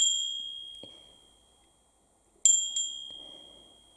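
A small hand bell used to cleanse a tarot deck rings out twice in close succession, clear, bright and near, each chime decaying slowly, after a fainter earlier ring fades away.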